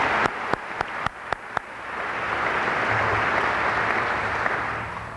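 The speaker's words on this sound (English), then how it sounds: "I think that deserves a round of applause" An audience at a faculty and administrative staff speech breaks into applause, starting with a few sharp separate claps and then swelling into steady, moderately loud clapping that carries to the end.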